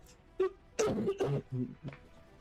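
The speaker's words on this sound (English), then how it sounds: "Apologies for the coughing." A person coughs several times in short, rough bursts with brief pauses between them, close and fairly loud against a quiet background.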